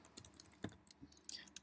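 Close computer keyboard typing while entering text into a database query field, a quick uneven run of light key clicks over about two seconds with no speech.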